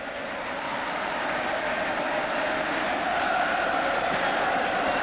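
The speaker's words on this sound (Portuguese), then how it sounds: "Finalmente canta a torcida do Corinthians." Corinthians supporters sing in the stadium during a 1998 Brazilian league match against Botafogo, a steady, distant wash of crowd chanting that swells slightly without any clear individual voices.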